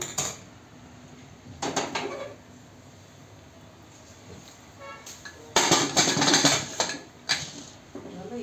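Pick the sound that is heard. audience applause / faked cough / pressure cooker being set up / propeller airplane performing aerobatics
pressure cooker being set up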